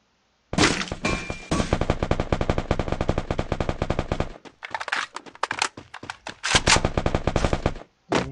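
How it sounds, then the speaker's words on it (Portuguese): Rapid automatic gunfire exchanged in the video game Free Fire, long dense bursts of shots with brief pauses, loud and continuous. "A gente trocando tiro aqui."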